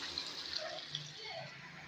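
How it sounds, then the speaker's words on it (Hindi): A glass of water poured into a pot of white beef korma with yogurt and korma masala, giving a steady, fairly quiet splashing wash of liquid over about two seconds, with no talk. "अभी हम इसको 1 गिलास हमने साथ पानी का भी डाला।"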